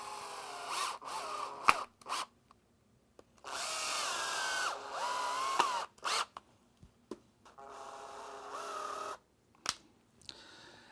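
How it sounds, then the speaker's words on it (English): A power drill drives screws through drywall wallboard into a 1/4-inch plywood backer for a hole patch, sounding in several close whirring bursts of a few seconds each with brief pauses between them. "attach it by driving screws through the wallboard and into the wood"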